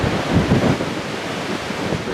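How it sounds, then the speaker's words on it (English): Wind gusting along a pine forest trail in mild weather, a loud rushing roar buffeting the microphone, swelling at first then holding steady, with no voices. "Bit shaky with this wind"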